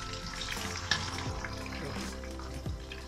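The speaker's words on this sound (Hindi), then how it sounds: "स्किन उतारने के बाद मैं इसे दोबारा फ्राई करूँगी।" Fish sizzles and crackles in hot oil in a pan, a steady, fairly quiet frying hiss with occasional soft knocks and stirring sounds, no voices over it.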